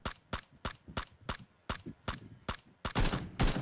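Rapid gunfire in PlayerUnknown's Battlegrounds, a steady string of about ten sharp single shots roughly every third of a second, the last few louder and fuller, with no talk over them.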